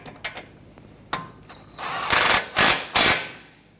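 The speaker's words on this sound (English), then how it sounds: "Using a 17mm socket, I'm going to go ahead and tighten down the ball joint nut here." Ratchet clicking in short bursts as a 17mm socket tightens the ball joint castle nut on the outer tie rod of a 2017-2020 Hyundai Elantra, a few faint taps first, then three loud close ratcheting runs.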